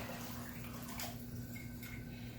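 Liquid poured into a container while warm autumn drinks are made, a soft, steady splashing stream over a low background hum, with no talking.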